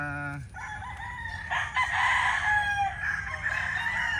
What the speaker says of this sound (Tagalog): pag-aalaga natin ng mga manok natin